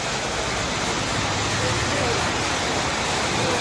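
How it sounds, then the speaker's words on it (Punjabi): Loud, dense downpour drums on tin roof sheets during a travel stop in Ludhiana, making a constant broadband roar. "ਆਵਾਜ਼ ਤੁਸੀਂ ਸੁਣਦੇ ਹੋਣੇ ਉੱਪਰ ਟੀਨਾ ਪਾਈਆਂ ਹੋਈਆਂ ਨੇ ਡੈਡ ਬੋਲ ਬੋਲਦੀਆਂ"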